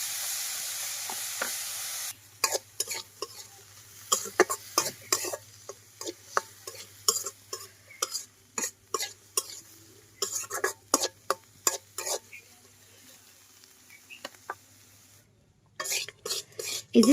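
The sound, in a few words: shrimp frying in oil with turmeric and salt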